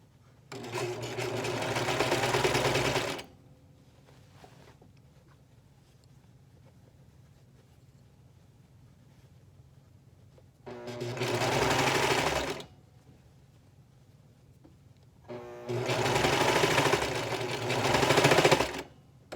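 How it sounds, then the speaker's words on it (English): A sewing machine and serger stitch over ruffled fabric for a romper, running in three steady whirring bursts of about two to three seconds each, separated by quiet pauses, close and moderately loud. "You're just sewing and serging right over top of all that ruffled up fabric"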